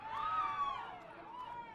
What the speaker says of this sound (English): And hear the cheer. That is a cheer for Jess.